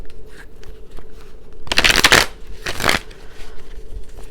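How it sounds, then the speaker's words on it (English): Tarot cards are shuffled during a live reading: two loud, close bursts of riffling and slapping cards, the first longer, separated by a brief pause over a quiet background. "It said give it a big long shuffle"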